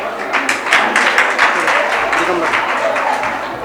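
An audience applauds at a Sanskrit youth festival closing ceremony during the Magh Mahotsav, a loud, dense, steady wash of clapping from a crowd that fills the whole stretch.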